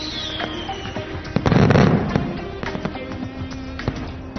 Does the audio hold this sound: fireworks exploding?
yes